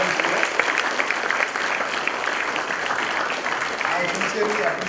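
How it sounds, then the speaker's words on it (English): Audience at a student conclave in Madurai claps continuously in a dense, sustained round of applause filling the hall. "It's time now to give a big round of applause to the IABF for hosting"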